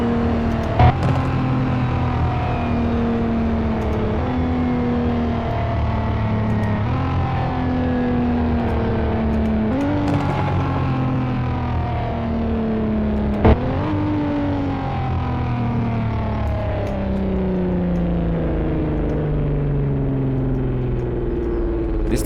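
A Nissan 370Z Nismo engine in a video game roars continuously, its pitch climbing and falling as it shifts through gears and downshifts, loud and up close.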